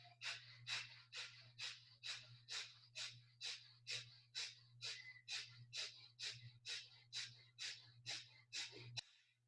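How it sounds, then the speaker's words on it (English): Kapalbhati yoga breathing, a long even series of about twenty forceful, sharp nasal exhalations at a steady quick rhythm, close and clear, over a low constant hum. A final longer breath ends the round. "We have been doing Kapalbhati for many weeks now."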